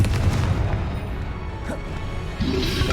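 A Confringo spell explosion in the video game Hogwarts Legacy booms with heavy rumbling blasts up close, with a fresh loud impact near the end over the game's ambience.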